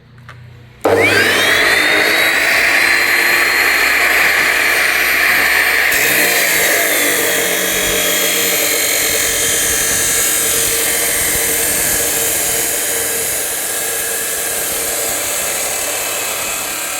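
A power tool whines at a high, steady pitch while cutting 48 mm pipe for a homemade hammock frame, starting abruptly and running loud and continuous throughout.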